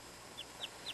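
Small chicks peep indoors, three short high chirps spaced evenly over a second against quiet room noise, faint and close.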